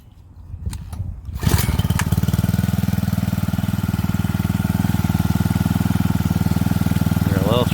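A small mining pump engine on a homemade aluminum highbanker catches after a few rustling knocks, then settles into a loud, even, rapid chugging run that continues steadily to the end.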